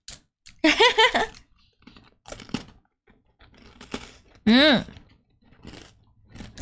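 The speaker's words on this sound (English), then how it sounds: "I'm gonna eat a biscuit." Someone bites and chews a crunchy biscuit in a few separate crackly bursts close to the mic, with short pauses and voiced sounds in between.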